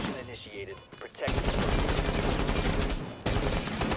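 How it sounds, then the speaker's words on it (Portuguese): Rapid gunfire in Rainbow Six Siege, dense bursts of close, loud shots that run for a few seconds, pause briefly, then resume. "tô levando tiro aqui"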